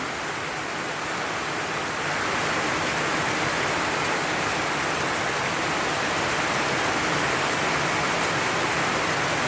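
Dense, steady roar of heavy rain, loud and unbroken from start to finish, building slightly early on.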